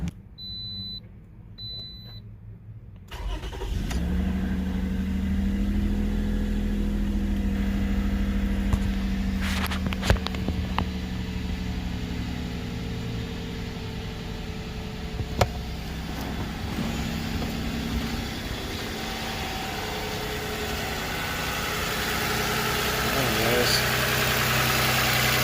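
A 2012 Toyota RAV4 V6 engine cranks briefly and catches after a spark plug install, then settles into a steady, even idle heard up close, with small clicks and clunks over the drone.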